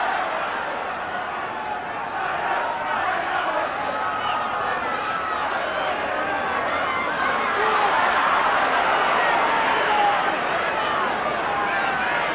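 The diffuse, continuous hubbub of a rugby league crowd of nearly 30,000 at a snowy Hull KR versus Hull John Player Special Trophy match, a broad roar that swells slightly, under a commentator's talk.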